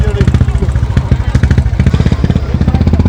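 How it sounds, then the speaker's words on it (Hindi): Motorcycles ridden by touring bikers on a cold Leh-Ladakh road pass close by, a loud, throbbing engine rumble with rapid pulsing firing beats running steadily throughout, with voices mixed in. "तो ये बाइकर्स ट्रैवल कर रहे थे वापस"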